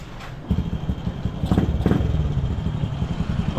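A motorcycle engine runs close by with rapid, uneven low pulses and a couple of brief throttle blips, with no talk.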